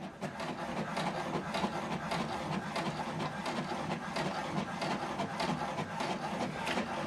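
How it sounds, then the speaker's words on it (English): An HP Deskjet 2820e printer runs a print job, giving a steady, close mechanical whir and rubbing rattle with faint rhythmic pulses that continue without a break. "Now it's printing the document."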